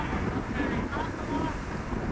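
Wind buffets the microphone on the open Shek O Headland by the sea, a constant low rumble and roar with no gaps that stays loud throughout the short stretch.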